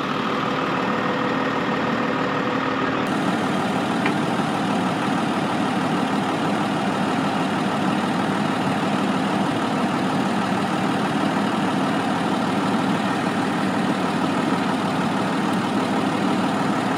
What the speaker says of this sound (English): Nicest, smoothest backing up ever.